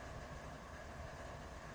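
A train in the RUN8 rail simulator game rumbles along continuously, a dense, steady roar of rolling railcars with faint clickety-clack, loud and unbroken.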